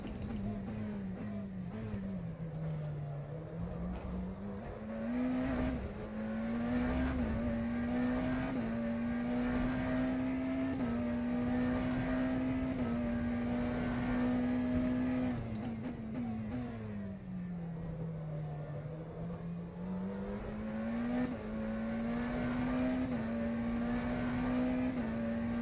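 A McLaren Senna GTR hypercar engine in rFactor 2 at Sebring, droning steadily and loud, its pitch sliding down under braking and climbing back as it accelerates through the lap, with no talk over it.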